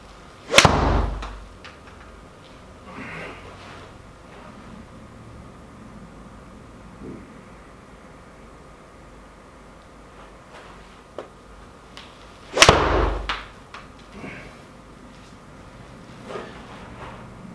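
Two sharp, crisp club strikes on Pro V golf balls ring out from a Callaway versus Ping club test, each a loud isolated crack several seconds apart, with quiet outdoor ambience and faint rustling between them.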